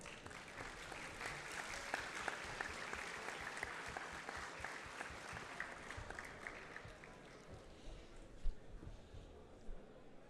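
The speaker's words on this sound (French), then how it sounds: "On applaudit Madame Descamps, s'il vous plaît." An audience at the start of the Saint-Jo 24-hour race applauds an honored guest, a soft, distant patter of many hands that swells, then gradually fades with a few scattered louder claps near the end.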